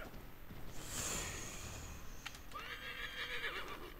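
A horse in the video game Assassin's Creed 3 lets out a high whinny, then a second, lower neigh with faint hoofbeats and a snort around it.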